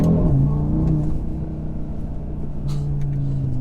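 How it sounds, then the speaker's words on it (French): A 2021 Audi RS Q3 five-cylinder engine with a tuned exhaust, giving a low, throbbing rumble that rises and falls as it accelerates briefly. It is close and fairly loud, with no speech. "juste accélérer entre deux dodanes, t'as de suite le son du 5 cylindres avec une sonorité très travaillée à l'échappement"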